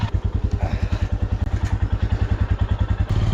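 A motorcycle engine thumps in a fast, steady rhythmic putter, close and loud, on the mountain road to Sonprayag on the way to Kedarnath.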